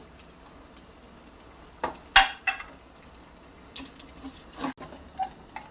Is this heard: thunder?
no